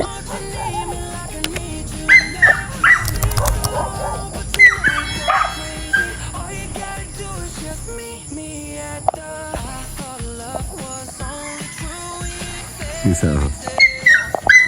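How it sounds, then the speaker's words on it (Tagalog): Several unruly dogs yip, whimper and bark in short scattered bursts, some close and some farther off, over outdoor background noise with a brief spoken word. "may sumingit na mga asong magugulo."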